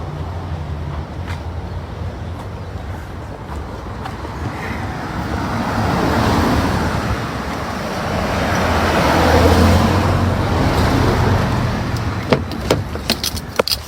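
Steady road and traffic rumble heard from inside a parked or idling car on a university campus in California, a continuous low hum with faint rattles and a few light clicks toward the end, no speech.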